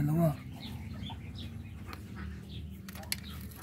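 Muscovy duck and chicks on a farm, a brief close call at the start followed by soft low murmuring and faint farmyard ambience.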